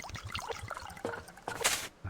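Watering plants in the survival game Subsistence, a short splashing trickle of water with small drips, close and fairly quiet, no voice.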